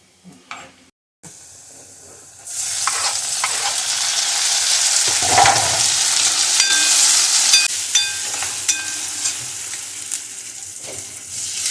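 Lentils (dal) sizzle loudly as they are fried and stirred in a hot pan, a steady close hiss with scattered scraping clicks from the spoon, following a brief quieter start.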